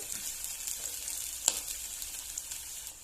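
Curry leaves and coriander leaves fry in a cabbage stir-fry, giving a soft, steady close sizzle with one brief sharp crackle midway.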